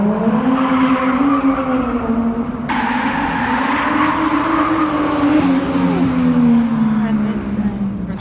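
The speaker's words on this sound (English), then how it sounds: "We hear that drifting is going on" A car engine roars continuously while tires squeal in a long, wavering high-pitched whine, loud and close throughout.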